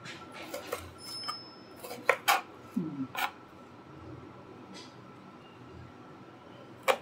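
A knife chops garlic on a board in a home kitchen: irregular knocks, some quick clusters, moderately close, with quiet gaps and a final sharp tap.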